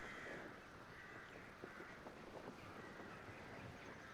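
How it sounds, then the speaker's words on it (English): Crows caw in a video game, with faint distant calls over a constant windy, hollow ambient background, quiet and with no talking. "The crows?"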